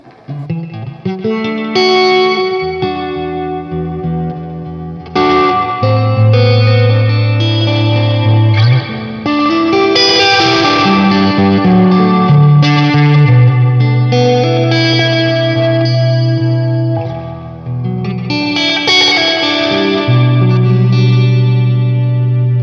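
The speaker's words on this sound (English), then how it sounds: "Guys, that's just the reverb" An electric guitar plays chords through an Analog Alien Rumble Seat reverb pedal, the notes blooming into a long, washy, echoing tail that swells between strums, loud and alone.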